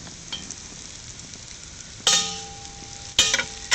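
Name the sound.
frying food in a Dutch oven for baked beans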